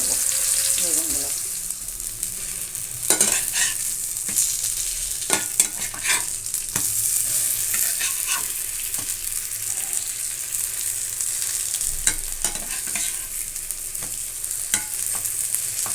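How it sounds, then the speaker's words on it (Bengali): Eggplant pieces fry in hot oil in a pan with a constant sizzling hiss, while a utensil scrapes and turns them now and then, the clicks and knocks standing out close over the frying. "তো এবারে আমি উল্টোপাল্টা ভেজে নেবো বেগুনগুলো।"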